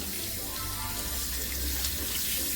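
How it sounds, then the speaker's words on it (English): Lukewarm water runs steadily from a sink tap as doll clothes are rinsed, a continuous close hiss and splash with no talk. "now I'm going to put it down in my sink, and I'm going to use like lukewarm water to rinse it"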